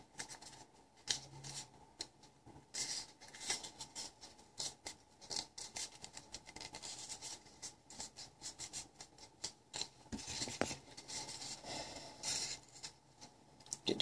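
Scissors snip through flattened cardboard, making a quiet, irregular run of crisp cuts and rustles close by, with short pauses between clusters of snips.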